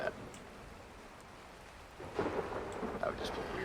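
Steady rain hisses through a stormy ARK: The Center game world, with a deeper rumble of thunder swelling partway through and a few brighter crackles on top, no voices.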